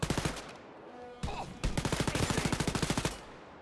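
Rapid automatic gunfire in the co-op shooter Wolfenstein: Youngblood, loud and close, with a short burst, a brief gap, then a long even stream of shots that stops abruptly.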